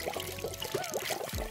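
Water pours and trickles through a toy monster truck car wash, a continuous splashing dribble heard close and alone.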